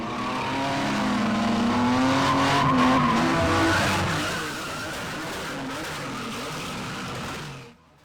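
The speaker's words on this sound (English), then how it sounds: "Be prepared for screeching and spinning, the smell of burning tires, clutches, and brakes" Tires screech in a long, wavering squeal as a car skids during desert car racing in the Al Dhafra region of the UAE, loud and sustained, then cuts off abruptly near the end.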